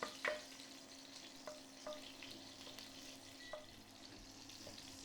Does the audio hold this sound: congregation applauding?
no